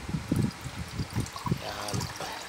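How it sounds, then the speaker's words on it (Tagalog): Water is poured into a cooking pot while making sinigang na lapu-lapu, heard as a close, uneven trickle and splash with short pulsing bursts over a couple of seconds. "Lagyan na muna tayo ng tubig dito."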